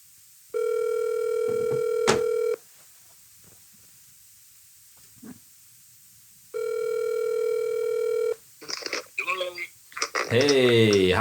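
Two long electronic ringback tones sound on a phone line, separated by quiet, before a voice answers and talks at the end.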